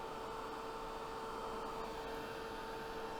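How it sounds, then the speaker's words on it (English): A steady, even whoosh of a craft heat tool blowing air, with a faint motor hum running unbroken throughout. "I'm going to heat that up, dry that up with my heat tool."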